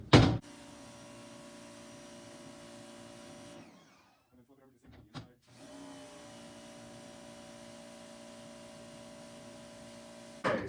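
A pressure washer wand sprays out a screen-printing screen, giving a steady loud hiss and mechanical hum that drops out briefly midway and then resumes, heard close up with no talk.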